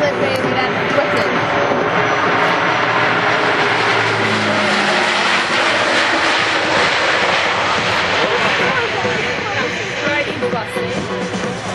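Fixed-wing aircraft engine drones loud and steady through a landing approach over a runway near a cliff, a continuous roar filling the whole stretch, with people talking over it.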